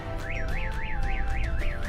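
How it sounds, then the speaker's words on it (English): A StarLine S-Series alarm siren in hijack mode on a VW Crafter van wails steadily, its pitch sweeping up and down in a fast repeating cycle about four times a second over a rumbling idle. "Then the siren's going to go off"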